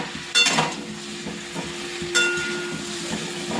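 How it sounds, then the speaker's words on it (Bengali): Pumpkin pieces frying in oil with salt and turmeric, a steady close sizzle with two sharp scraping stirs and a low hum running under it, no speech. "এই যে কুমড়োটা তেলের মধ্যে বসিয়ে দিয়েছি, নুন হলুদ দিয়ে একটু ভালো করে ভেজে নেব"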